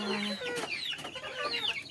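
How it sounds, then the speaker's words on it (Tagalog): Chickens cluck in a farmyard in the Philippines at dusk, a busy overlapping flock of short, repeated calls close by, with a brief low steady hum at the start and no talking. "Daming manok."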